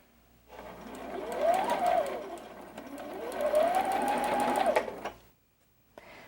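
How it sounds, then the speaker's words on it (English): A sewing machine stitches a curved braid quilt block seam, running steadily in two long, close, fairly loud bursts with a brief pause between them and then stopping, with no talk. "I can sew all the way through to the end of my block"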